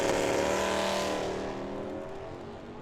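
A Camaro drag racing car roars down the left lane at Firebird Motorsports Park, a loud engine howl that builds and then fades as the car passes, with no talking.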